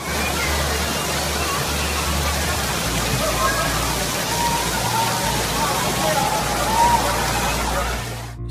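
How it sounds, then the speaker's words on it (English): Heavy rain falls during violent thunderstorms in Southeast Queensland, a dense, steady wash of water noise with a low rumble beneath, continuous throughout. "Southeast Queensland had another day of heavy rain."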